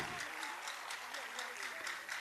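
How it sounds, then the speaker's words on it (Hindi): Applause from an audience at a state-level award and assistive-equipment distribution ceremony for World Disability Day, a steady wash of hand claps filling the hall with voices audible underneath. "एक बार जोरदार तालियां।"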